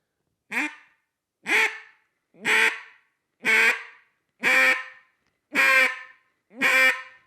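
A duck call blown seven times at steady one-second intervals, each nasal quack strong and up close, the notes growing fuller as more air is pushed through.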